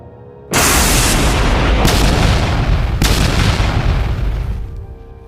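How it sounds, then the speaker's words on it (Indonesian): Heavy battle explosions boom in a dramatized fight scene: after a brief quiet start, a loud blast erupts and rolls into sustained rumbling, with two more sharp detonations punching through before the roar slowly fades away. "Suara ledakan tidak berhenti sejak 5 menit terakhir."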